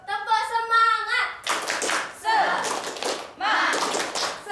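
A classroom of students claps the rhythmic Indonesian 'tepuk semangat' spirit clap in loud, close bursts of many hands right after a single voice calls out the cue.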